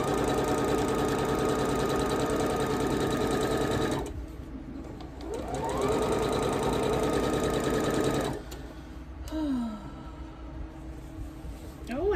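A sewing machine stitches sashing on a red quilt, running loud and close in long steady bursts. It stops briefly and changes speed between runs, with faint room noise in the gaps.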